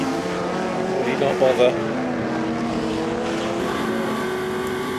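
Race cars including a Camaro compete at Goodwood's Members' Meeting, engines roaring loudly and steadily with a brief surge as cars pass, under continuous commentary.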